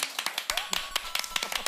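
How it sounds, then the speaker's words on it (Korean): Studio audience clapping on a Korean talk show as an actor is welcomed back, a quick run of sharp claps close by, with voices over it. "여러분 박수!"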